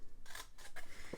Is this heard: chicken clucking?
no